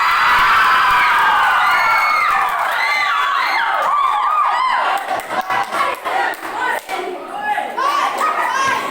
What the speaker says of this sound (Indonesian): Kita berikan aplaus yang paling meriah.